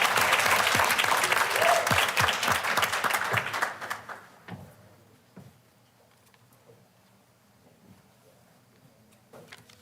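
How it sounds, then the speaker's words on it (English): A burst of audience clapping at an evening board meeting, loud at first, dies away after a few seconds, leaving a few scattered claps and quiet room noise. "We might as well clap right now for Dr. Payne."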